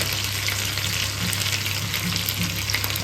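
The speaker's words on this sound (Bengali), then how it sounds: "মশলাগুলো এখন একটু কষাবো করে দেবো হলুদ গুঁড়ো" Spice paste of tomato, coriander, cumin, fennel, ginger, garlic and onion with turmeric and green chilli sautés for a small-fish curry, a dense, continuous close sizzle with a faint underlying hum.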